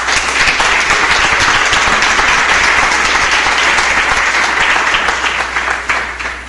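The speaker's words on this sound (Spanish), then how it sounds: "Un aplauso al Señor." A church congregation applauds the Lord in a sustained burst of dense, loud clapping that carries steadily before tapering slightly at the end.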